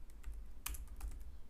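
Rapid, light key clicks from typing on a computer keyboard while building a website design in Figma, a short close burst of taps over a quiet room.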